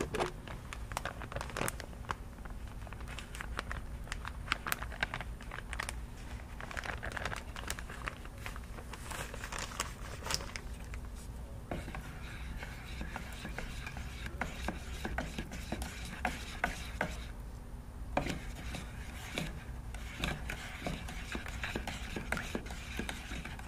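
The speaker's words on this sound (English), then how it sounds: "let's start adding the flakes and let's see how much we need." Metal flakes are poured into clear candy paint in a bucket and stirred with a mixing stick, giving faint, continuous crinkling, scraping and rubbing textures over steady background noise.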